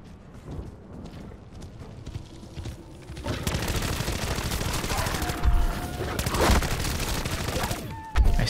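Gunfire in Modern Warfare Zombies sounds as rapid, dense bursts of automatic shots. The shooting starts quieter and becomes loud and continuous after a few seconds, with occasional heavier impacts and a person talking in places.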